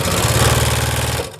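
A sewing machine stitching a single seam through two quilt fabric pieces, a fast, loud mechanical whirring rattle that runs steadily and then slows to a stop.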